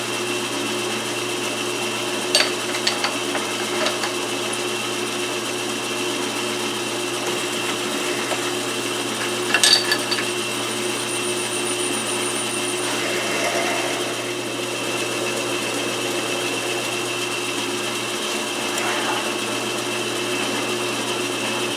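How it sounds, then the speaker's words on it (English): A South Bend 11-inch lathe runs with a steady mechanical hum while a drill bores through a part held in the chuck, with a few brief clicks and knocks from the tooling along the way and no one talking. "I'm drilling through this part"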